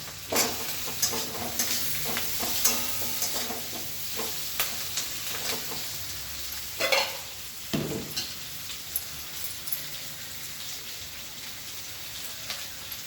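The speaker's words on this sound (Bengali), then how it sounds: "পেঁয়াজটা এই মিনিট 1 মিনিট মতো ভেজে নিয়ে আমি আলুটা দিয়ে দেবো।" Onions sizzle steadily in a hot pan while a utensil stirs and scrapes now and then, producing irregular clicks and scrapes over the constant frying hiss.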